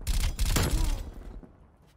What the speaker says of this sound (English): This is basically like a rapid fire burst weapon.